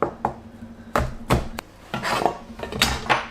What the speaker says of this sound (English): Chop the garlic finely and the green chilies.